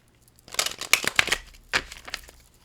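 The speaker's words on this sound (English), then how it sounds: "Let's shuffle." Tarot cards are shuffled by hand, giving a quick burst of papery riffling and crisp flicks followed by a short second rustle, close and fairly loud with no talking.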